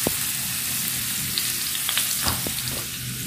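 Garlic and ginger frying in a pan, a close, continuous sizzle with a few sharp pops and spatters scattered throughout.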